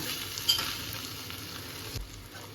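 Muri ghonto with fish head stir-fried in a pan, a low steady sizzle with faint scraping of a spatula and a couple of soft knocks, quiet and close, no speech.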